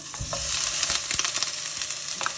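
Tofu fries in a hot pan for pad thai, with a bright, close sizzle and quick stirring scrapes and taps of a utensil against the pan.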